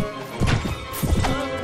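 A horse in the video game Mount & Blade: Warband whinnies and clatters under attack during a battle, with a couple of loud, close bursts of neighing and hoof impacts over a constant background of game noise.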